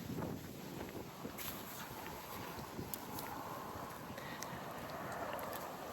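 Wind gusts buffet a microphone outdoors, a steady loud rumbling roar with broadband hiss that runs unbroken through the whole stretch, with no voice over it.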